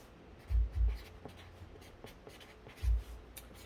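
Pen writing by hand on paper, a quiet close scratching with a few soft thumps of the hand on the page and faint rustling in between.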